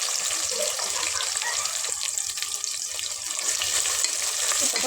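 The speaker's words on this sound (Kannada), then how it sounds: "ಸ್ವಲ್ಪ ಫ್ರೈ ಆಗಬೇಕು ಈರುಳ್ಳಿ." Long-sliced onions and whole spices fry in hot oil in a pan for an Indian ghee rice and chicken curry, giving a steady close sizzle with occasional stirring scrapes and no talk.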